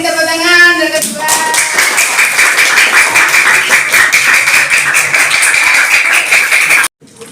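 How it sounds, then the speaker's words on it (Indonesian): A classroom of students claps hands together in a loud, steady burst of fast, overlapping claps lasting several seconds, preceded by a brief voice and ending abruptly. "kita beri tepuk tangan yang kedua"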